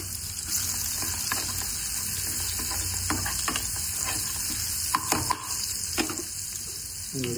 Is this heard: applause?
no